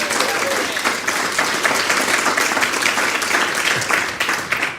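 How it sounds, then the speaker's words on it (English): Sustained studio audience applause from a live show, dense and steady throughout, fading slightly at the end. "Big round of applause."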